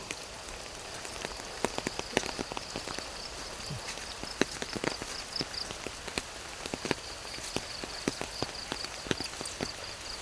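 Morning rain, after a night of steady rainfall, patters on outdoor surfaces with soft drips and scattered sharper taps, quiet and continuous.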